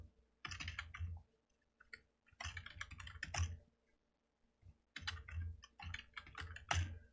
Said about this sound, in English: By typing the root password and using su.